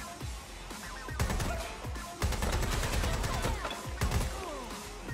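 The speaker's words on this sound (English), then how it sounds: "I'm glad I got the girl with the LMG because my mags like are big." A light machine gun fires sustained, rapid bursts in Watch Dogs Legion, loud and close, broken by short pauses and mixed with impacts and crashes of a firefight.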